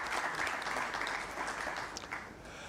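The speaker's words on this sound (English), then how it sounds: "A big round of applause for them, ladies and gentlemen." Sustained applause from a press conference audience, a dense, even wash of many hands clapping without pause.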